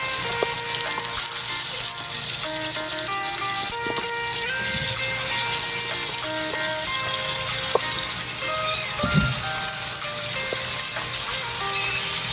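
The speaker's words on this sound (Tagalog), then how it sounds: "Gisa-gisa lang hanggang sa lumabas na yung amoy." Onion and garlic sautéing in a pan for ginataang kalabasa, a steady close sizzle and crackle running throughout with occasional scrapes and clinks, and nobody talking.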